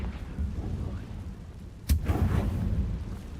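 A Confringo fire blast spell from the video game Hogwarts Legacy erupts as one sharp, loud blast that rolls into a rumbling burst, set against a steady low game backdrop of ambience and music.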